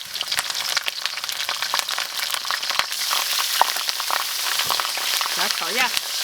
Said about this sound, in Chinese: 来点郫县豆瓣酱